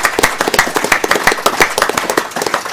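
Audience at a football club fans' forum clapping in a sparse, uneven round of applause, individual hand claps distinct and fairly close, with no voices over it.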